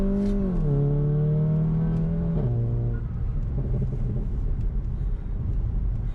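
An APR Stage 2 tuned Volkswagen GTI launches from launch control held near 3,000 rpm: a loud droning engine note dips as the brake is released, then a sustained rumbling, whirring pull as it accelerates from inside the cabin.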